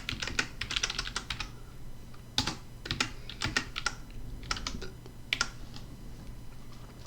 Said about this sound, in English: grab our font, grab our text tool and type in our text.